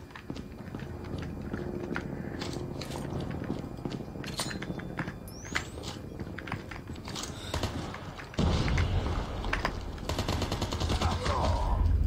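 AK rifle fire in Call of Duty Mobile, heard as dense bursts of game gunfire over a busy, constant in-game soundscape. The mix grows louder and heavier near the end, and there is no clear speech.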